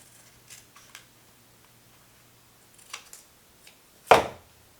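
Scissors snip a paper craft piece in a quiet room: a few faint cuts early on, then one sharper, louder close snip near the end.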